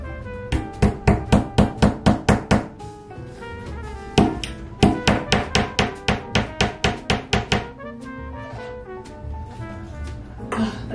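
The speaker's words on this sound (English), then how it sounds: "it's not difficult to hammer them inside" Rapid, loud metallic hammer strikes come in quick rhythmic bursts, a few pauses between runs, ringing sharply close by.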